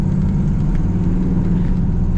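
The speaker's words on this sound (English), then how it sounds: "Fired it up and idled right away." A black 1981 Chevrolet Corvette coupe with an automatic transmission idles, a loud, steady low rumble with an even, throbbing pulse close by and no one talking.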